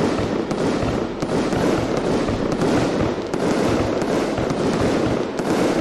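Rapid, dense crackling and popping from an Italian fireworks cake in the video game Fireworks Mania, loud and continuous with sharp bursts throughout and no talking.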